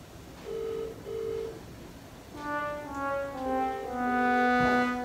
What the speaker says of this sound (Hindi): रिंग तो जा रही थी